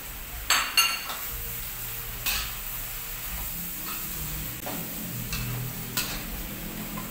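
Chicken goes into a pan of Javanese fried noodles (mie goreng Jawa), giving a steady low sizzle with scattered metallic clinks and scrapes of a utensil against the pan, close by and with no talking.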